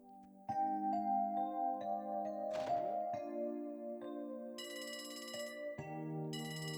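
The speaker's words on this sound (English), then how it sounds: "Still have a landline phone in the SSS." A landline phone in the video game Trails from Zero rings with bright electronic chimes in repeating bursts, set against sustained game music tones, with no voices.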